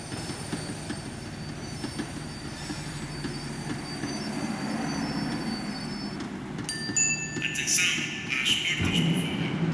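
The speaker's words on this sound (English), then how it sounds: "The tram was slowing down, and I'd only just gotten on board." A tram slowing to a stop in the Max Payne 3 video game, with a steady rumbling rail drone and metallic wheel squeals rising toward the end, heard up close inside the carriage under faint background voices.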